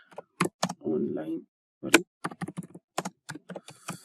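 Typing on a computer keyboard, with short bursts of close key clicks separated by pauses, one longer rattling run, while a person talks.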